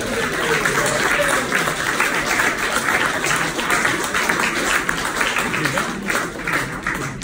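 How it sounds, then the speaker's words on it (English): A crowd at a greyhound derby lunch applauds steadily throughout, a dense, sustained round of clapping mixed with background chatter. "Can I ask everybody to give Jonathan Hobbs a round of applause?"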